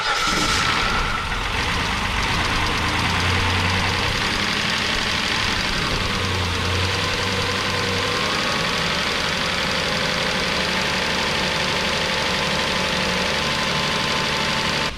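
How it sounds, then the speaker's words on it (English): A Hyundai/Kia 3.5 engine idles while warming up after an oil sensor replacement, a steady close mechanical hum with a light ticking knock running unbroken throughout, with no talking. "It's still just warming up, so it should idle down here in a minute."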